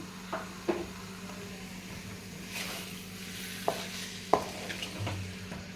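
A spoon stirring a curry of baby potatoes, boiled eggs and yogurt in a pan, giving a few scattered scrapes and knocks over a faint continuous sizzle, close and fairly quiet.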